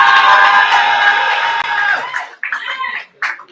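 Loud audience cheering and whooping at a poetry slam fills the first two seconds, then breaks into short bursts of crowd noise and talk.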